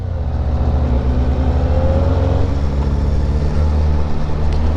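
Kawasaki ZX-4RR sport motorcycle running on its original stock exhaust, a loud, steady engine drone with a brief rising rev partway through, no voices.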